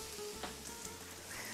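Potatoes frying in a pan for breakfast hash browns, giving a soft, steady, faint sizzle with a couple of light clicks.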